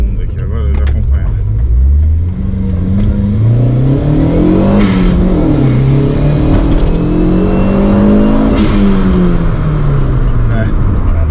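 Chevrolet Celta engine pulling hard in second gear on a late-night drive, a loud, steady interior drone whose pitch climbs and dips through the run, with voices talking over it.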